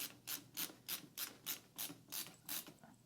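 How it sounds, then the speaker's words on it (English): Long screws are driven into a PC radiator with a ratcheting tool, giving about nine soft, evenly spaced clicks, faint and close. "we're going to be careful not to tighten this down too tight because these are extra long screws"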